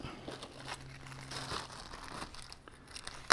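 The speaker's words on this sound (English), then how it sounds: "let's get some foil out" At an outdoor backpacking campsite, aluminium foil is pulled from a pack and crinkled, making quiet, irregular rustles and crackles up close, with a sharper crinkle at the end.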